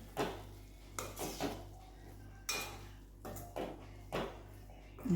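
A spoon scraping and knocking against a pan while spices and grated coconut are stirred into cooking green chillies with peanuts, several separate clinks and scrapes over a low steady hum.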